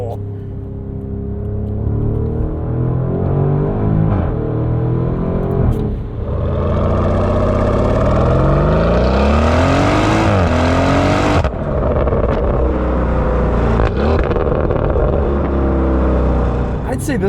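A 729 hp Porsche Cayenne Turbo Coupe V8 revs and accelerates hard, a loud, sustained roar with rising pitch sweeps and a brief drop as it shifts, heard from inside the cabin.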